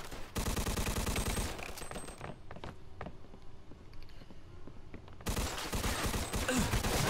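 Rapid revolver and other gunfire in the Mafia 2 video game, loud repeated shots in dense bursts, with a quieter stretch of scattered single shots before the firing swells again.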